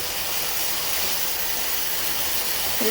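Beans and potatoes frying for bhaji, giving a loud, steady hiss and sizzle throughout with no talking.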